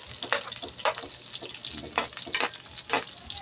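Bombay onions sauté in a hot pan with a steady close sizzle and frying hiss, broken by repeated scraping stirs of a utensil, and no voices.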